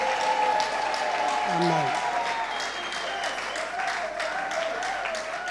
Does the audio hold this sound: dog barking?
no